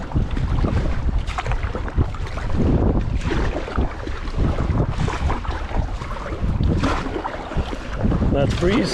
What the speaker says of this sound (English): that breeze is really hugely welcome, I must say